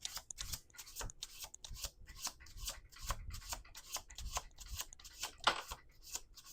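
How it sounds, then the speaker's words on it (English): Tarot cards being shuffled in repeated quick riffling bursts, a crisp papery rustle with a steady rhythm, close by and with no talking. "two more shuffles"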